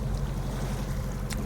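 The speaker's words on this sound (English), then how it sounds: "I'm in 3-meter waves" A small boat riding 3-meter waves at sea in a shipping channel, with a continuous low rumble of hull and water, wind noise, and a brief sharper splash near the end.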